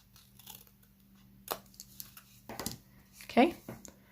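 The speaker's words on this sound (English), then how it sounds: "just try to make a nice straight line with your scissors" Scissors cut a paper banner for a handmade card, giving a few soft, separate snips and rustles at irregular intervals, some close and crisp, over a quiet room hum.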